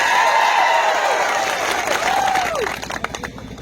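A large crowd at a political rally claps and cheers loudly, with high whistles and whoops over the roar. The noise then thins into scattered claps near the end.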